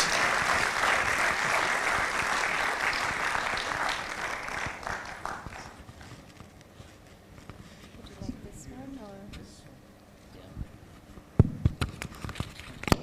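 A room full of people applauds the IIMB director at a 15th anniversary celebration, loud and dense for about five seconds before thinning into scattered claps, shuffling and murmured voices, then a few sharp knocks near the end.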